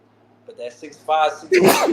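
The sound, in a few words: sneeze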